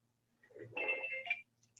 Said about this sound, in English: Sorry, I just forgot to switch off my phone.